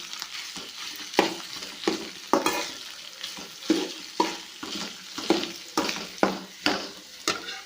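Mashed potato filling with chili pieces fries in a pan for samosa, a utensil scraping and stirring in a quick regular rhythm over a soft sizzle, close by and without speech.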